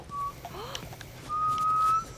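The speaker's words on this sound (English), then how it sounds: "I'm whistling." Ellie from The Last of Us whistling a short high tone, a brief pause, then a longer sustained whistled note, faint and close.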